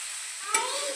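A kurdai mixture with coriander and green chilli is stirred in a hot pan, giving a soft sizzle and one quick scraping stroke in a single close second.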